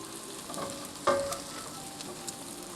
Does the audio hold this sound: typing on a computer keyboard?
no